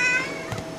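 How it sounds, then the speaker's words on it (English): A brief, close meow from a landlord's cat, a single drawn-out tonal cry lasting under a second. "That's my landlord's cat."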